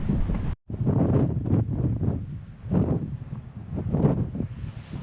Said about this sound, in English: this is a situation where the crosswind is so bad that I have to pedal down the hill